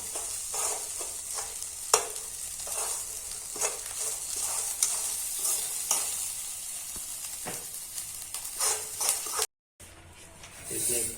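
Chili seeds sizzling and crackling as they roast in hot oil with salt, a steady close frying hiss with occasional stirring scrapes, briefly cutting out near the end.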